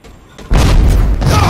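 A mine blows up in the video game Halo 4 with a sudden, loud, deep boom that holds as a sustained rumbling roar, cutting off a brief moment of quiet.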